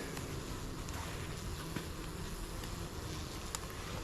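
Honey bees at an opened hive during an early November inspection, a soft continuous buzzing drone that stays even and fairly faint throughout, with a few light taps.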